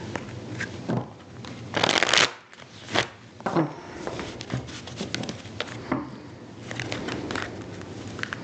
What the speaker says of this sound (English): I'm having a hard time shuffling the cards